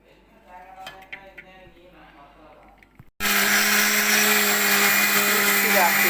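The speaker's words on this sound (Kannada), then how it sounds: "ಮಿಕ್ಸಿ ಮಾಡೋಣ ಈಗ." A kitchen mixer grinder blends dry fruit juice with soaked chia and flax seeds, starting abruptly halfway in as a loud, steady, high-pitched motor whir after a stretch of quieter kitchen clatter.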